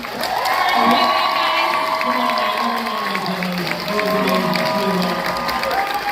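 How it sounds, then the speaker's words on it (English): A large crowd at a 90s pop culture convention in Daytona Beach, Florida claps and cheers loudly and continuously, with shouting voices rising above the applause. "Can we give one more huge round of applause?"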